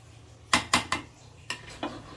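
A metal spoon scrapes and clanks against a pot while cooked beef tehari rice is turned over, five or six distinct close knocks in two loose groups with quiet pauses between, no talking.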